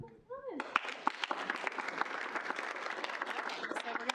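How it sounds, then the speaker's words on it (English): Applause at a Kansas State University student senate meeting for a newly sworn-in senator, a room of steady hand claps with a few sharp louder claps, following a brief voice at the start. "Round of applause."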